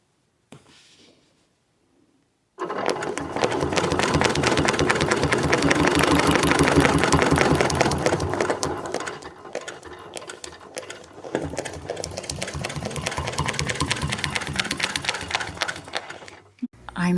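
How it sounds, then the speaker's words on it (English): A quilting machine stitches a spineless feather motif on a butterfly bed runner, running in a steady, loud mechanical rattle for most of the stretch, briefly easing in the middle before resuming until the end. "I'm essentially stitching a spineless feather here, one side at a time"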